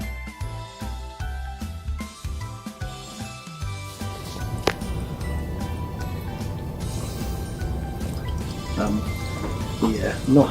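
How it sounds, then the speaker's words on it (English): Hot tea dripping and trickling through the strainer of an old MatrixStore faceplate, a close, continuous liquid patter after a short musical opening, with steady background sound throughout. "We have quite some leakage."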